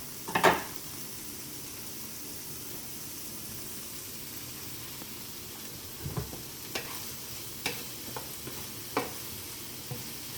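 Chicken and vegetable stir fry with mushrooms frying on a flame thrower grill, giving a steady hot sizzle throughout, with a sharp clatter at the start and several scattered clicks and scrapes of stirring toward the end.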